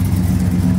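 Classic cars roll out at a supercar show, giving a brief, loud, low engine rumble with a steady throaty drone close by and no voices.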